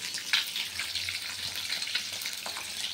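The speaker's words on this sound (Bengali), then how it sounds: "আর এখানে ডিম ভাজা হচ্ছে" Eggs frying in a pan give off a steady, fairly quiet sizzle with a few crackles, close by and continuous, with no voices.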